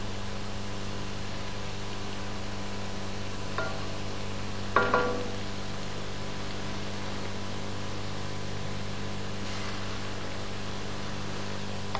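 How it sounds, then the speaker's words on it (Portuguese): Chopped onion softens in fat in a pan for Alentejo-style rice, cooked without browning. It makes a faint, steady sizzle over a constant electrical hum, with a few brief utensil knocks. "Juntamos a cebola picada, que vamos deixar refogar sem ganhar cor."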